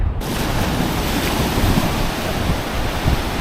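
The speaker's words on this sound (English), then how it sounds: "the water's pushing in pretty hard" Ocean waves surge onto a beach on Tasmania's west coast, a steady, loud roar of surf with wind buffeting throughout and no clear breaks between waves.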